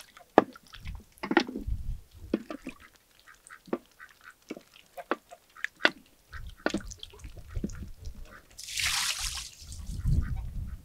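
Fresh homemade butter, just lifted from the churn, is rinsed of its buttermilk by hand, giving irregular wet squelches, splashes and drips close by, with a brief hissing pour of water near the end.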